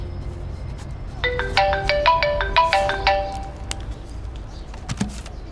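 A phone rings with an incoming call, playing a bright melodic ringtone of quick repeated tones for about two seconds over a quiet background, then stopping.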